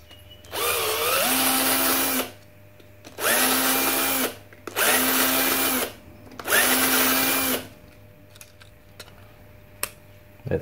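A power drill bores a hole in a PCB for an ASCD Nano 4x 18650 build: four loud, separate bursts of a couple of seconds each, every one rising in pitch as the motor spins up, with quiet gaps between them.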